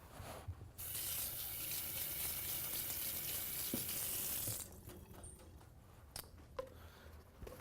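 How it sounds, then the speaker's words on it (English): A kitchen tap runs steadily for about four seconds as hands are rinsed under it, a close hiss of water, with soft clinks and handling noises after it shuts off. "I'm going to rinse my hands"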